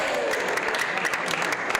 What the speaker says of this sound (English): Let's give a big round of applause to these kids.